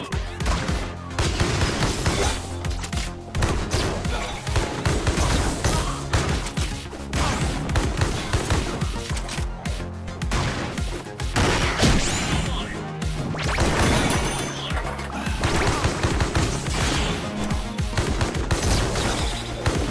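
Relentless gunfire in the fast-paced first-person shooter Mullet Mad Jack, loud rapid bursts of shots mixed with crashing impacts and smashes, continuous and dense with almost no pauses.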